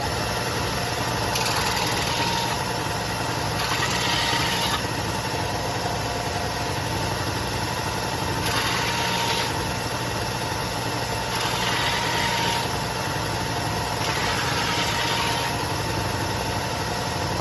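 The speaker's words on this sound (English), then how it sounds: "went over to the belt sander." Belt sander grinding a large size 15 nugget style ring completely flat, a loud steady motor drone with a rough sanding hiss that swells and eases in several passes as the ring is pressed to the belt.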